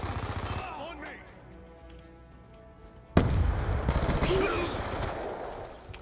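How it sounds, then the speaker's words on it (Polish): Rumbling blasts and bursts of gunfire in Call of Duty: Black Ops II multiplayer, a sharp loud explosion about halfway through followed by dense crackling fire and booming echoes. "Jedna rzecz w tej grze jest świetna. Odgłosy wybuchów."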